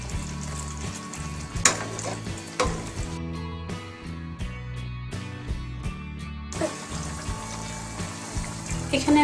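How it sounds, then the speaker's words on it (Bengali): Garlic pickle cooking in a pan on the stove, a soft steady sizzle and bubbling with intermittent stirring and scraping knocks throughout, fairly quiet and close. "আমি এরকম করে চুলার মধ্যে 10 মিনিট এটাকে ভালো করে জাল দিয়ে নেব।"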